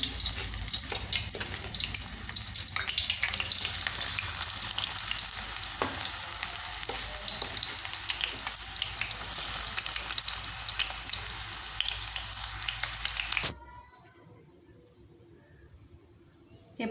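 Banana chips deep fry in hot oil with a loud, dense, continuous bubbling sizzle and occasional stirring, which cuts off abruptly near the end and leaves near silence.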